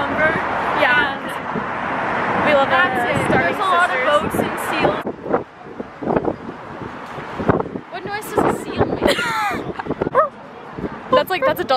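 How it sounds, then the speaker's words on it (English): Seals barking in San Francisco near the Golden Gate Bridge, a string of dog-like barks and yips repeating over gusty wind noise while people talk nearby. "Seals are like the dog family."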